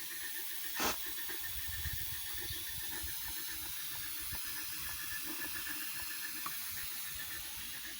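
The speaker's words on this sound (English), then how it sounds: "I thought I'd give the loco a run on the rolling road to test everything out before hitting the main line" Coal-fired Quarry Hunslet steam locomotive running on a rolling road, a steady close hiss of steam with a faint rhythmic ticking and low mechanical rumble underneath, one brief louder puff near the start.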